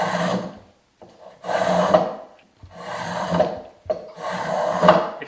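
A hand plane shaves wood in four long, rhythmic rasping strokes separated by short pauses, each stroke close and clear with no talking.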